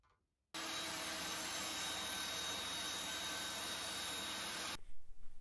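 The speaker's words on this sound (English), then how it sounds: "I'll cut the final length off on the table saw" A table saw runs steadily for about four seconds, making a final-length cut through wood, a loud sustained whine with a broadband roar that starts abruptly and then cuts off, followed by the blade spinning down.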